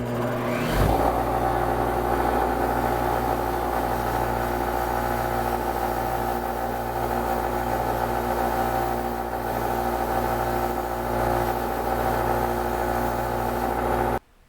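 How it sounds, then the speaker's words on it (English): A bench grinder spins up and runs steadily while its wire wheel cleans a rusty bolt, a loud, even motor hum with a gritty brushing texture that ends abruptly. "we're going to do that using a bench grinder with the wire wheel"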